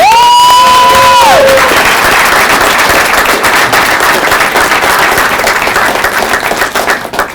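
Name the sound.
round of applause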